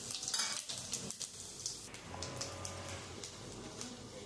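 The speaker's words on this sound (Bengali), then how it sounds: "আমি ওই তেলের মধ্যে জিরে আর শুকনো লঙ্কা ফোড়ন দিয়ে দেবো।" Cumin seeds and dried chillies sizzle in hot oil, a quiet close crackle with a few light stirring taps, no talking.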